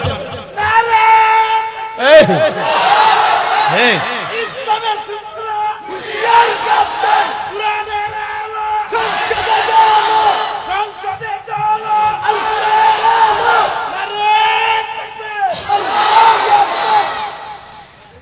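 A large crowd at an Islamic sermon loudly chants takbir, Allahu Akbar, in repeated massed shouts. Each chant lasts a few seconds and is separated by short gaps, and the loud, reverberant voices keep recurring throughout.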